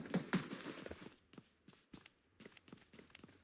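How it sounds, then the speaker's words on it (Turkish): Footsteps in PUBG Mobile come through quietly as a series of separate soft thuds, a few quick steps at first, then more spaced treads moving nearby, with no talking. "Ayak sesi duydum."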